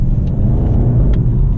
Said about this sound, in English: once you just put your foot on the accelerator, the car just flies away